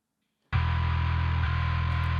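A heavily equalized electric bass track from a metal mix starts abruptly after a half-second of silence and holds a loud, thick sustained low note to the end.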